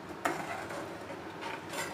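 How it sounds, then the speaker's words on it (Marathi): Ginger paste is stirred with ghee in a kadhai over a low flame, soft scraping and sizzling broken by a few light clinks of a spoon against the pan. "आणि हे सतत ढवळत राहायचं आहे आणि मंद गॅसवर ढवळत राहायचं आहे."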